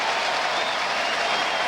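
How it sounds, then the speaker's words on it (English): Baseball stadium crowd in Kansas City roaring and applauding during a Yankees–Royals game, a dense, steady wash of distant cheering and clapping with no break, heard briefly on its own. "The crowd is getting into it as Jose Lima is on the top step of the dugou"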